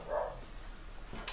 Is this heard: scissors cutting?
no